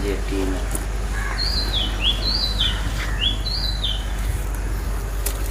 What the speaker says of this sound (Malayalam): ഇപ്പൊ ഒരു സൗണ്ട് കേൾക്കണ കിളിയുടെ സൗണ്ട് കേട്ടാ.